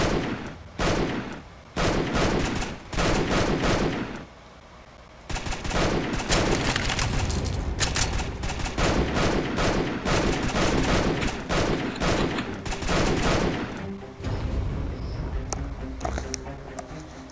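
Rapid gunfire from the Strike Force Heroes 3 video game, dense bursts of shots in quick succession with brief pauses, loud and continuous through most of the stretch.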